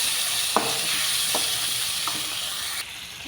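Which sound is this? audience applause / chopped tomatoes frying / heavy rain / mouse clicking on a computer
chopped tomatoes frying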